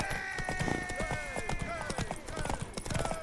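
A galloping horse in a race within The Witcher 3 pounds out rapid, steady hoofbeats close up, with a voice and other game sounds mixed over the top.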